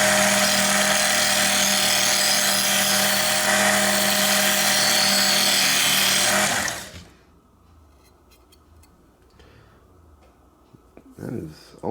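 A Work Sharp MK.2 knife sharpener grinds a knife edge with a loud, steady whirring buzz for about seven seconds, then cuts off, leaving a quiet room with faint handling noises.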